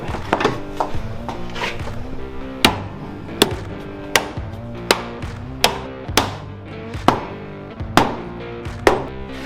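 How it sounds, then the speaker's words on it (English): Repeated hard whacks smashing off the remaining piece of a go-kart part, about a dozen sharp impacts at a steady rhythm, close and loud with no talking. "Hopefully we can just smash the rest of it."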